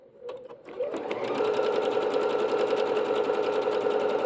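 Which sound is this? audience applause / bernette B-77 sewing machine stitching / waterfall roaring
bernette B-77 sewing machine stitching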